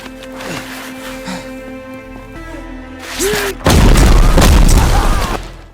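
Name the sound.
explosion sound effect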